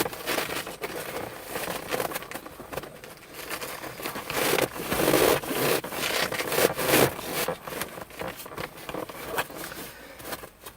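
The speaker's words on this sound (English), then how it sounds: "The cover goes on with the flap in the front. And it does fit tight, so you just need to work it" TigerTough fabric seat cover stretched and worked tightly onto a Ford F150 or Super Duty truck seat, giving steady close rubbing, scraping and rustling with a few brief louder scuffs and no talk.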